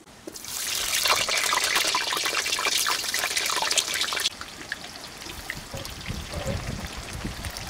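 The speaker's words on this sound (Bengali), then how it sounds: "কড়াইতে সরিষার তেল দিয়ে দিচ্ছি" Mustard oil pours into a kadai for potatoes in a Patnai chicken recipe, a loud, splashy stream for about four seconds that drops to a quieter, softly crackling trickle.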